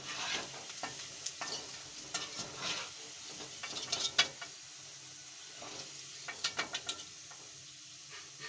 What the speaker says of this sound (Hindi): अब दूसरे साइड से भी हम इनको फ्राई कर रहे हैं।